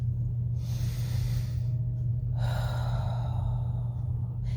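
One slow, deep breath is drawn in through the nose, then a longer exhale flows out through the mouth. Both are close and soft over a steady low hum.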